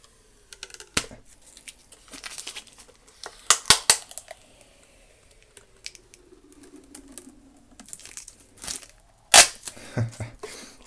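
Stretch film being stretched, pulled and torn over a small terrarium during unboxing, sharp crackling snaps and rustles in scattered bursts with quieter gaps, close and intermittent.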